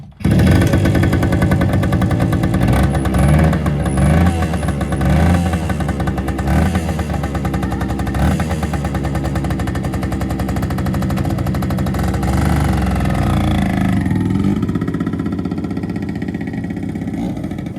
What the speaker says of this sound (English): Let's start it up and run it.